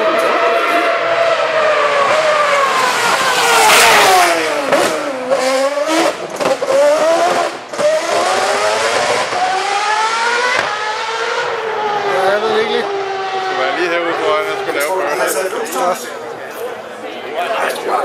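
Formula 1 race car engines roar at high revs on a Copenhagen street demonstration, the pitch rising and falling through gear changes and passes while a crowd chatters underneath.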